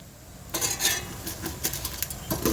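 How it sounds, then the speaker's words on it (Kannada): A handful of chana dal drops into a pan of oil while tomato chutney is cooked, giving a quick burst of light, close pattering and small clinks that scatter and then settle into occasional rattles. "ಒಂದು ಹಿಡಿಯಷ್ಟು ಕಡಲೆಬೇಳೆ ಹಾಕ್ತಾ ಇದ್ದೀನಿ."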